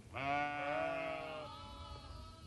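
A single drawn-out sheep or goat bleat from a nomadic herd of goats, sheep and camels kept by settlers from Xinjiang, loud and close, wavering and then trailing off, with no talk.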